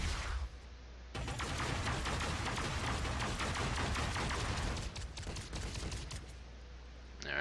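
Star-Lord's Elemental Barrage skill in the Marvel Heroes video game, a loud sustained barrage of rapid-fire blasts roaring continuously for several seconds, then trailing off into a few scattered shots.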